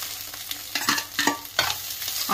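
Sliced onions stir-fried in a hot pan for egg noodles, bursts of sizzling and scraping as they are tossed, close and fairly loud without talk.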